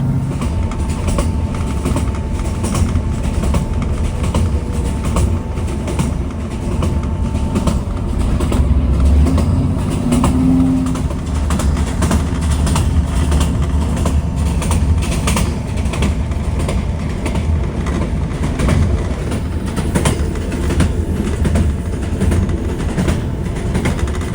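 A train rumbles steadily along the rails near Helmsdale in the Scottish Highlands, a continuous low droning roll with faint rhythmic clatter, close and fairly loud, with no voices.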